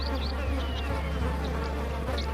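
Flies buzz persistently close by, a dense droning hum with faint passing whines, steady throughout with no talk.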